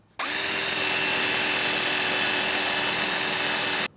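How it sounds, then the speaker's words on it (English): A loud, steady power drill whines continuously for a few seconds, grinding through metal as it drills out a spot weld on a BMW E36 nose panel, then stops abruptly. "there's a spot weld right there that I have to drill out"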